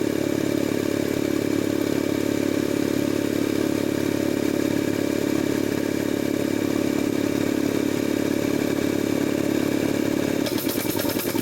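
Jenny air compressor with debris in the pilot valve running as its head fails to unload, a loud continuous mechanical pounding hum with fast clatter and a change in rhythm near the end.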